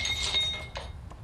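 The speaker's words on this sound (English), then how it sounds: "Glasses actually shattering against the fireplace." Drinking glasses shatter against a fireplace, heard as a quick run of sharp glassy clinks and cracks over about a second, close and fairly loud.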